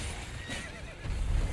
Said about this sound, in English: Kill his horse.